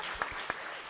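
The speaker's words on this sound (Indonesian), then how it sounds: "Tepuk tangan buat batik Indonesia" Brief applause from an audience at a talk about Indonesian batik, a steady wash of clapping with a couple of sharper claps standing out during a short burst.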